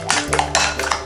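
A utensil beats cracked eggs with salt and sugar in a bowl, quick repeated clinks and scrapes against the bowl, close and fairly loud, with no voices.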